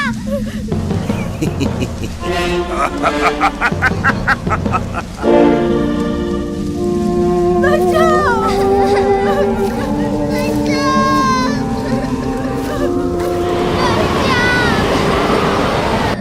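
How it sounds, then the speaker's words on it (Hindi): A fierce storm with heavy rain in an animated devotional story, steady dense rain hiss mixed under loud dramatic music and voices throughout. "ये तूफान शांत हो जाएगा।"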